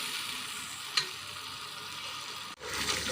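Boiled lentils are stir-fried in a pan with a quiet, steady sizzle. A single clink is heard, and a brief pause follows before the frying hiss comes back stronger.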